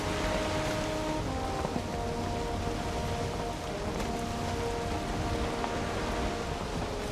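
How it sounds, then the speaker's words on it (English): Rain falling over the open ocean in the video game Valheim, a constant dense hiss of downpour with faint tonal game music beneath it and no speech. "Is it always raining in the ocean?"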